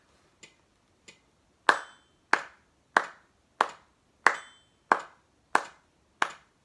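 Hands clapping in a preschool music lesson: two faint claps followed by eight loud, sharp claps in a steady even rhythm, close and alone with quiet gaps between.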